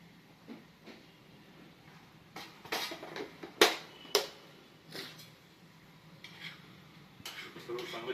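Gravy with chilli powder and turmeric being stirred in a pan while cooking butter chicken, soft intermittent scraping and clinks of a spoon against the metal pan over a faint sizzle, fairly quiet and close.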